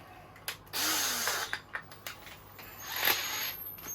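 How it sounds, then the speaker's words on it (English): A power drill bores holes into a 30-litre plastic barrel, giving close, moderately loud bursts of whirring and grinding with short pauses and mechanical clicks between runs. "when you're drilling these is make sure you keep your drill steady"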